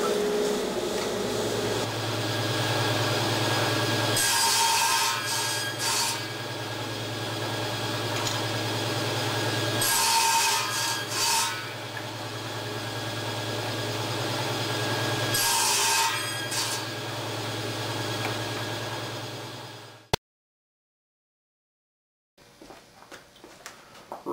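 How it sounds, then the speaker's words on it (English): A crosscut saw cuts wooden loose tenon pieces to length against a stop block, with a loud steady motor hum broken by three distinct cutting passes, then the machine winds down into silence. "I'm going to cut the tenons to length using my crosscut saw and the table saw"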